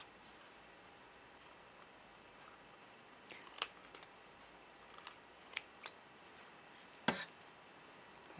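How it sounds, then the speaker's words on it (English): Scissors snipping sewing thread beside a portable sewing machine, several faint, sharp clicks scattered through an otherwise quiet room. "pull this piece up and cut with the help of a scissors."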